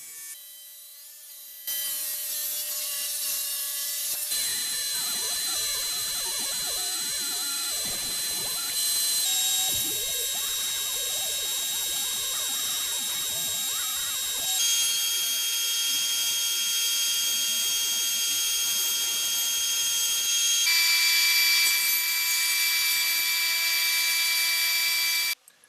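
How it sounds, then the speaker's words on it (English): A table saw rips maple and cherry boards into strips, a loud continuous high whine close by, with the pitch shifting as each cut runs and brief breaks between passes, no voices. "I can now run them through the table saw and cut them into individual strips"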